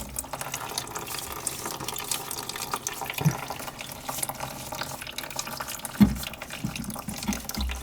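Toilet cistern that keeps running and will not shut off, a constant close hiss of flowing water with faint trickling and a couple of brief knocks, and no talking.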